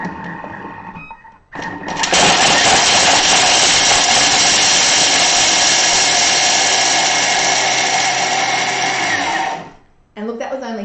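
Thermomix TM6 grating Parmesan cheese at speed 9: a loud, steady high-pitched whirring grind that starts abruptly, holds for several seconds, then winds down to a stop, with brief talk before and after.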